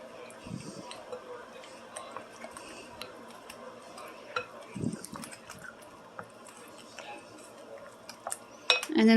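A utensil mixes ground beef and casserole mixture in a dish, giving soft scraping and clinking strokes at an uneven pace, with a louder knock near the end.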